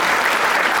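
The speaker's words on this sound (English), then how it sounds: "So let's give some applause and appreciation." Steady applause from an audience at a presidential installation ceremony, dense and continuous clapping filling the whole short moment with no break.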